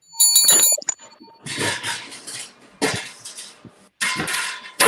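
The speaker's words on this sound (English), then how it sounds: "Ring that bell." Bell ringing in loud, bright bursts: a first sharp ring, then several longer rattling rings separated by short pauses, with no talking.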